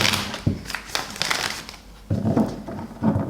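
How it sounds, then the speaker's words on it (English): Tarot cards are shuffled close up in quick riffling bursts, separated by brief pauses. "you can sleep even through me shuffling"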